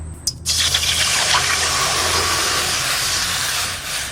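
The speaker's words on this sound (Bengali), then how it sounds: "কড়াইতে জল দিয়ে দেবো।" Water is poured into a wok, a steady, loud rushing gush that starts abruptly after a brief moment and runs without break until it eases slightly at the end.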